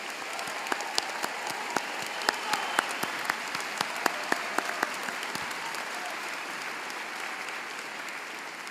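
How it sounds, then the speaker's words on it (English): Applause for law school graduates at a 2024 commencement ceremony, a steady wash of many hands clapping from a large audience, with sharper individual claps standing out early before the sound thins and continues evenly to the end. "please join me in giving all of our graduates one more well-deserved round of applause."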